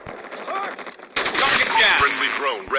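Rapid automatic gunfire erupts in Call of Duty Mobile, a loud, dense burst of shots that follows a second of quieter game sound and faint talk, then keeps crackling steadily to the end.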